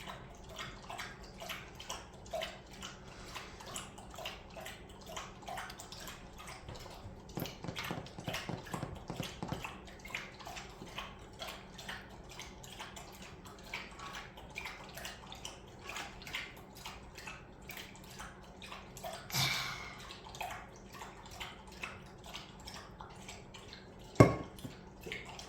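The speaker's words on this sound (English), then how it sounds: "My dog is drinking water." A dog laps water from a bowl in a quiet indoor room, a steady run of soft wet licks and small splashes at close range, with a louder clink near the end.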